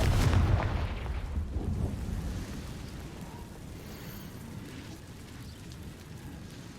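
A Confringo fire spell explodes in the Hogwarts Legacy video game, one loud booming blast at the start that fades into a low rumbling tail over several seconds.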